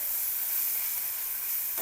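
Coconut, coriander and poppy seed paste roasting in hot oil, giving a steady, close, fairly loud sizzle that holds evenly for under two seconds with no voices.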